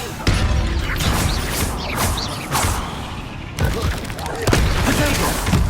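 An explosion spell in Hogwarts Legacy on PS4 Pro lands as loud, dense booms and crashing debris, with thuds and rumble rolling through continuous game sound and brief voices.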